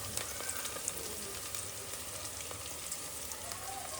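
Ground masala roasts in a pan for mandakki usli, with a faint, continuous sizzle and light crackling, steady and undisturbed throughout.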